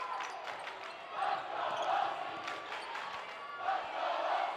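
Indoor crowd at a high school girls basketball sectional championship, Lake Central against Munster, a sustained roar of cheering that swells and dips, with ball bounces and shoe squeaks faintly beneath.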